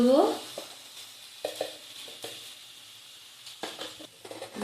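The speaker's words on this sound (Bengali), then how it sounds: "মশলাটা ভাজতে দেবো।" Spices and turmeric fry in oil in a pan over a lowered gas flame while aloo phulkopi is cooked. A soft, steady sizzle runs under intermittent scraping stirs, with a brief voice at the start.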